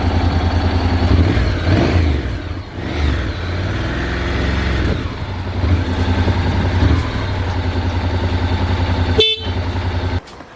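A Honda NC750 DCT motorcycle engine runs to warm up, a steady, fairly loud low idle drone, with engine pitch rising and falling and a sharp metallic clatter near the end.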